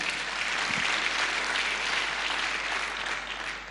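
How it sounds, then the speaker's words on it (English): An audience at a women in construction forum claps steadily, a dense wash of applause that holds for several seconds before tapering slightly, with no speech. "you can clap"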